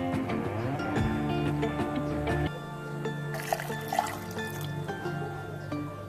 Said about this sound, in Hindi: अब मैं इसमें 2 ग्लास पानी के डाल दूंगी